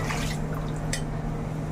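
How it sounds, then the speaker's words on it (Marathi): Water streams and splashes into a pot of dal being made for dal dhokli, a brief continuous pour heard close up over a low background hum. "तर मी याच्यामध्ये पाणी टाकणार आहे."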